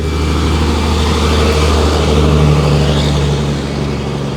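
A trailer truck approaches with a loud, steady engine drone and low rumble that swells slightly, close by and continuous.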